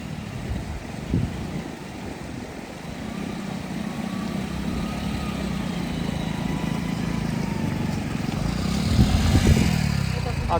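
Motorcycle engine running steadily on a mountain road trip in Ladakh, a continuous close rumble with rising revs toward the end, under wind and background noise.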